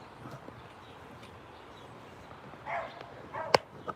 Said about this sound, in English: Do you hear the dog barking every once in a while?